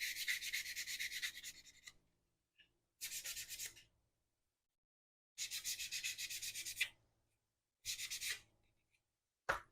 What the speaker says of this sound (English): Then I'm going to take a Infinity sanding sponge